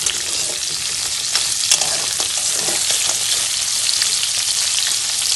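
Oil frying hard in a pan for a crab curry, with potatoes browning: a steady, loud, dense sizzle throughout, broken by a few scraping stirs and no voices.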